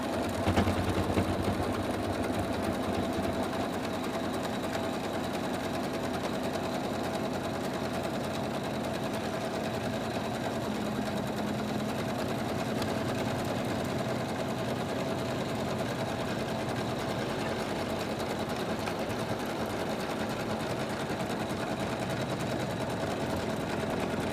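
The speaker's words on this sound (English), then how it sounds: "now it's ready to go in the machine for the final stitch out. The machine is just going to go around." An embroidery machine stitches out an in-the-hoop wish monster design, a steady, close mechanical whirring and rapid needle chatter that runs on continuously without pause.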